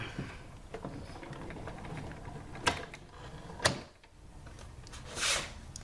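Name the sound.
die-cutting machine cranking embossing folder and cutting pad through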